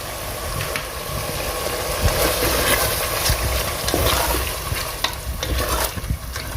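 Mutton liver and kidney frying in a pot while being stirred with a spoon, giving a steady close sizzle with scraping and clinking spoon strokes throughout.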